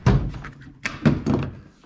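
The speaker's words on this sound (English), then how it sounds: "We'll pop the door open" Car door of a rough, damaged vehicle with a broken outside handle being popped open: a heavy thunk followed by a couple of further dull knocks and rattles, close and fairly loud.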